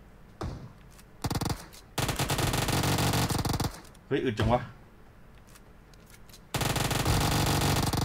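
Rapid automatic gunfire rings out in PUBG Mobile in several loud bursts of differing length, separated by short gaps. A player speaks briefly between the volleys.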